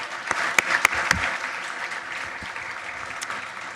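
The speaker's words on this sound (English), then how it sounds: "Let's hear a round of applause for these outstanding people." Applause from an outdoor rally crowd for award winners, steady clapping with a few sharp nearby claps early on, moderately loud and continuous.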